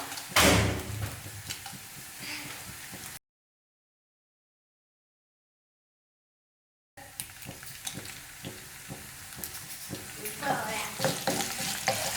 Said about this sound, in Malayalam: ഇനി ഒരു 6 വറ്റൽമുളക് നമുക്കിതിലേക്ക് മുറിച്ചിട്ട് കൊടുക്കാം